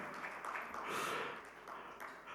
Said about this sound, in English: Can we have a big round of applause for them, please?